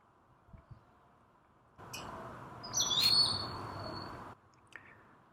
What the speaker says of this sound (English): There are two birds vocalizing, and these might be the same pair of Broadwing hawks